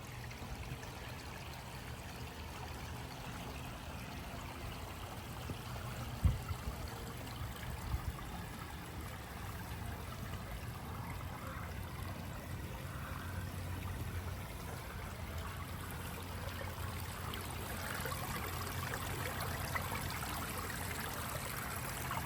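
Water flows through a backyard stream and spillway bowl fountain in Galveston, Texas, a faint, steady trickle and burble heard at a distance for the whole stretch, with no talk.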